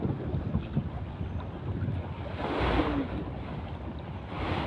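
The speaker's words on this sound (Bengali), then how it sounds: "জোরে বাতাস আইছে" Strong wind gusting over open sea near a boat as a waterspout lifts water skyward, a continuous loud roaring rush of wind buffeting the microphone, swelling in the middle and again at the end, with no talking.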